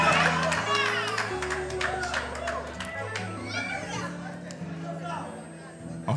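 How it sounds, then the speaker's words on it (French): Guests at a Congolese wedding ceremony cheering, clapping and calling out in a lively crowd, with music and voices mixed throughout. "Acclamons très très fort à la gloire de notre Dieu."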